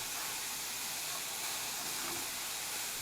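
Thinly shaved prime rib sizzles on a hot pan with a steady, even hiss that holds at moderate loudness, alone and without talk.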